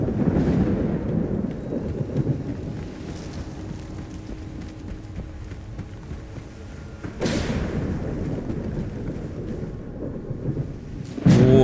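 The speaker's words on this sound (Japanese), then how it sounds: "すごい、すごい雷だ。" A thunderstorm in S.T.A.L.K.E.R. 2: Heart of Chornobyl brings steady heavy rain with two loud, sharp thunder cracks and deep rolling rumble, close and powerful.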